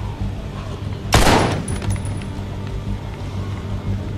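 A single gunshot rings out in The Walking Dead: Survival Instinct, a sharp, loud blast whose echo tails off over ambient game noise, with no talking.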